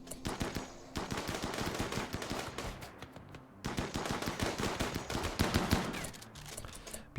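A chain shotgun in a video game fires in long rapid bursts, loud and close, with a brief pause between volleys before the relentless pounding resumes.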